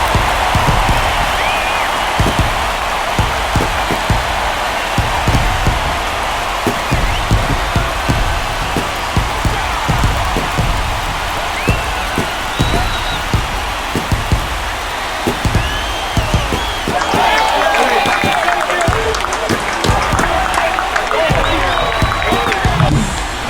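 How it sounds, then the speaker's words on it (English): Home crowd roaring and applauding at a Major League Baseball game between the Guardians and White Sox after a game-tying home run, a steady dense wall of cheers and claps throughout, swelling again near the end, with commentators talking over it. "That fires up the home crowd, and we are tied."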